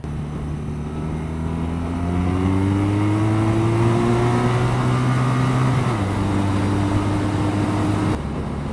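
A 2014 BMW R nineT motorcycle is ridden hard, its engine note climbing steadily through a long throttle pull, dipping briefly as it shifts, then carrying on at a loud, close, sustained roar with wind rush underneath.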